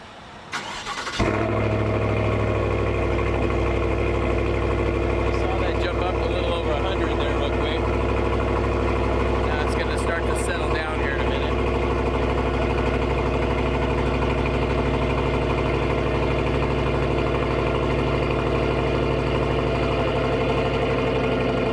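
A Chevy Silverado truck engine, fitted with an aftermarket AWE exhaust, cranks and catches at close range, then settles into a loud, steady, rumbling idle that holds for about twenty seconds.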